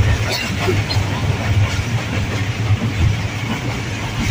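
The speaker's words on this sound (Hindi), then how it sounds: "लो जी असी ट्रेन दे विच बैठ गए हैं" A passenger train rolls along in Pakistan, its close, loud, continuous rumble and wheel rattle heard from inside a carriage, with faint voices in the background.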